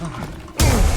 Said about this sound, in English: No, I smacked you with a paddle.